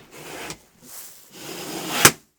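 A door is pulled open with scraping, rubbing noises, then ends in a sharp knock or latch click; no voices.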